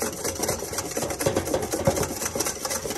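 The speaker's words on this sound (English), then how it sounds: "see how you're whisking it now?" A whisk beats thick lemon zabaglione in a bowl, giving a rapid, steady scraping and rattling that runs the whole time at close range.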